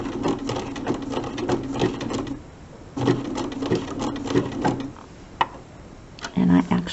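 A sewing machine stitches an appliqué block in short bursts, pausing while the needle is moved by hand, then running again, with a soft knock near the end.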